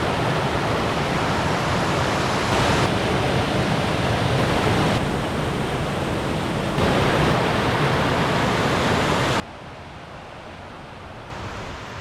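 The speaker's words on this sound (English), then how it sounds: "Definitely a nice sized waterfall." A waterfall below an old dam at Ricketts Glen roars in a loud, steady, close hiss of falling water that drops somewhat quieter near the end.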